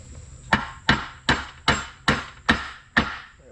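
A Kemper gearbox case is tapped down onto its dowel pins with seven sharp, evenly spaced knocks about half a second apart, each close and crisp with a short ringing decay.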